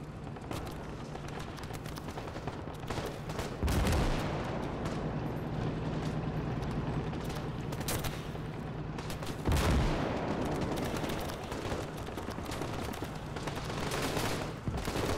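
Gunfire in a city battle between tanks and infantry in the game Gates of Hell, with dense overlapping rifle and machine-gun bursts and heavy booms around 4 and 10 seconds, sustained and loud throughout.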